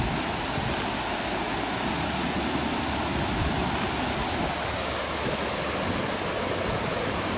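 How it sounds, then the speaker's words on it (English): Selfoss waterfall in Iceland, about 11 meters high and 100 meters wide, pours in a constant, even rushing roar, heard alone without voices. "It's a 1 kilometer walk to another one of Iceland's famous waterfalls, Selfoss."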